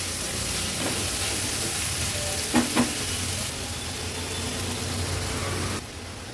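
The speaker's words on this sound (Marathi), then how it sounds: "गॅसची फ्लेम लोवर ठेवते आणि हा कांदा शिजवून घेते।" Chopped onion with crushed ginger and garlic fries in oil on a low flame for an Agri Koli style chicken thali, a steady close sizzle with a couple of brief stirring knocks.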